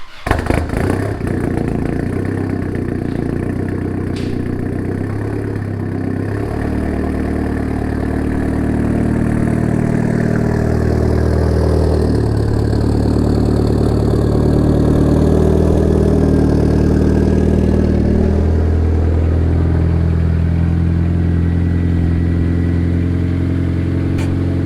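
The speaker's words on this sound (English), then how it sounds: "It's nice and quiet up front. All you hear is a little bit of timing belt whine." A turbocharged Honda Accord engine runs on a cruise, a loud steady drone heard from inside the car with a faint timing belt whine riding over it, rising slightly in the middle.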